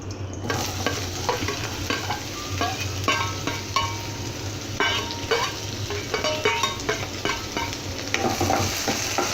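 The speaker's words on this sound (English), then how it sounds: "Fry it a little bit." Chopped onions and browned cashew nuts frying in a pan, giving a steady, loud sizzle with continuous stirring and scraping throughout, close up, with no voices.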